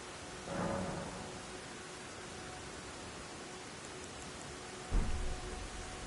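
Steady rain falls in the game Elden Ring, a continuous soft hiss throughout with a couple of brief heavier thumps, and no voices.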